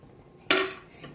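A steel bowl holding cut-up homemade soap is set onto a saucepan, a single sharp metallic clank that rings briefly and fades, close by, with no voices.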